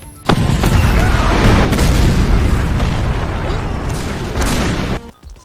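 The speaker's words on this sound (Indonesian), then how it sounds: "Namun tiba-tiba saja serangan dari artileri misil datang ke markas" Artillery missile strike explosions in a war film about WWII Germany versus the Soviet Union: a sudden loud boom followed by a sustained, roaring blast and rumbling debris for about five seconds, ending abruptly.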